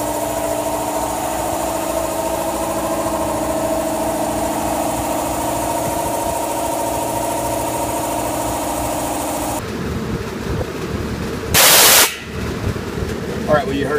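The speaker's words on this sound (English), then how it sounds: "you heard the valve open up and let the air out of it there" An automatic drain valve on an air compressor moved outdoors opens with a short, loud burst of hissing air, about a second long, following a steady engine-like running hum that drops away partway through.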